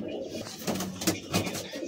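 Madras high-flying pigeons coo in a loft in Behala, Kolkata, giving soft, repeated low calls with a few brief bursts close by over a murmur of background noise.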